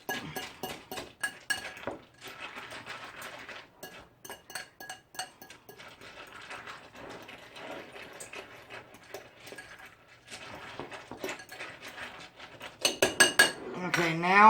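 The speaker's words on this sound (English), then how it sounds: "You want to stir it around to make sure you combine everything, all the pumpkin seeds with the egg whites" A spoon stirs pumpkin seeds coated in egg whites around a bowl, a run of light clinks and scraping taps up close, growing busier and louder toward the end.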